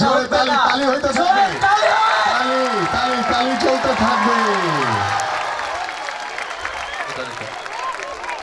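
A crowd at a local football tournament's champion trophy presentation in Pallabi Rupnagar claps and cheers. Loud shouting voices rise over it at first, then the noise gradually fades down toward the end.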